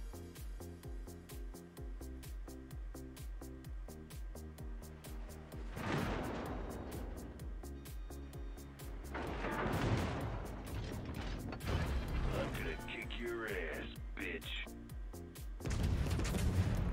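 A battleship artillery salvo in the naval video game World of Warships, with the Italian battleship Veneto firing on a German Tier VIII battleship, heard as several deep booming shots amid the game's ambient rumble, moderately loud.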